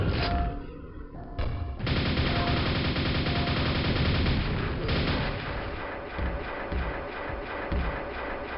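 Relentless enemy gunfire and explosive thumps in Quake, played on the Quakespasm source port, a dense continuous barrage of shots and booms filling the whole stretch without pause.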